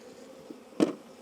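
Honey bees on a frame during a hive inspection of newly installed bees give a faint low hum. It is followed by one brief, louder buzzing burst as a bee passes close, then a short flick of wings at the end.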